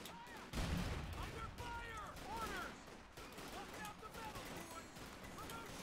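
Rifle gunfire crackles through a World War II video game battle on a defiled French farmland map, with a heavy boom early on and repeated shots and whistling projectiles rolling over dense, continuous battlefield noise.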